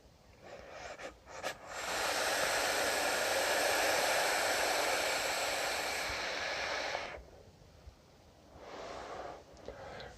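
A steady airy draw through an SXK Radius V2 RDA rebuildable vape atomizer, one continuous hiss lasting about five seconds, close and fairly loud, with quieter short breaths around it.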